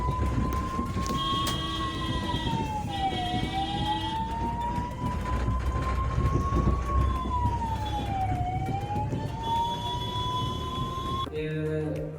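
A wailing ambulance siren heard from inside the vehicle, rising and falling slowly in a steady repeating sweep over engine and road rumble, continuous and fairly loud until it cuts off near the end.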